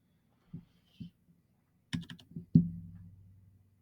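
Someone types a few scattered keystrokes on a computer keyboard, ending with a firmer click and a brief hum, all close and otherwise quiet.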